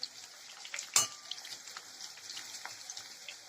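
Potatoes being stirred in hot oil, with a sharp clank near the start followed by soft intermittent scraping and a faint sizzle, close and quiet.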